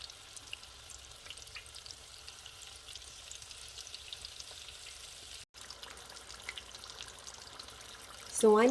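Corned beef hash egg rolls frying in hot oil in a cast iron skillet over medium heat, a faint steady crackle and hiss with a brief dropout, heard close and without talk.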